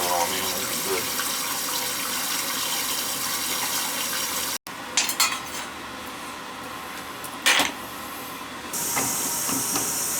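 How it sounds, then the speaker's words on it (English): Water from a hose running steadily down a drain beside a toilet, a loud continuous hiss and splash, briefly cut off and resuming, with clinks and bumps over it. "I ran the hose down there good, and the drain's not backing up."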